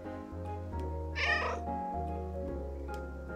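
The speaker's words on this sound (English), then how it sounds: "Kitty, hello kitty!" A large cat in the video game Calico gives a clear, drawn-out meow near the start, set over a soft, steady musical backing of sustained tones.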